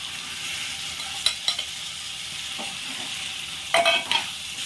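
Paneer curry with turmeric and tomato juice being stirred in a hot pan, a low continuous sizzle with a few sharp spoon scrapes and clinks against the vessel.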